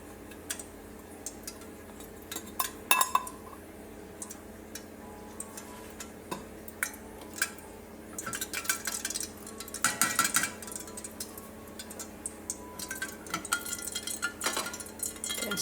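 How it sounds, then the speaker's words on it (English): Oils for a homemade balm, with tiny bits of petal in them, sizzle softly, giving faint, irregular ticks and crackles that grow busier toward the end, close and quiet. "There must be minute little bits of petals in there that are making it sizzle a little bit"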